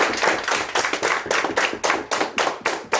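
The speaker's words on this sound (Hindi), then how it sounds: "इस अवसर पर जोरदार तालियां हो जाने के लिए।" A crowd at a school retirement party applauds, a dense rhythmic clapping that pulses in quick regular bursts, loud and close throughout, with no talking.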